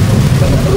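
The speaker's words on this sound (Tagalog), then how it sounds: "Meron ba't ang lakas ng ulan?" Heavy rain pours down as a loud, dense, continuous roar with a low rumbling undertone, steady from start to finish with no talking.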